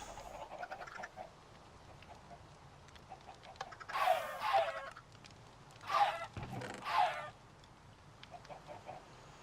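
Minecraft video game chickens cluck in a few short bursts around the middle, over quiet background hiss, with no talking during the calls.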